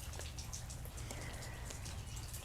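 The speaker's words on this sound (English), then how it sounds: "It's starting to rain." Light rain begins to fall outdoors, a soft steady patter of scattered drops with faint bird chirps in the background.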